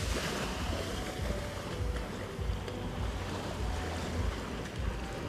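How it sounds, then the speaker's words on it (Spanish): Ocean surf washing onto the beach at Playa del Carmen, a steady broadband roar of breaking waves with wind noise, continuous and fairly loud with no speech. "te encuentras el mar que te está invitando a bañarte"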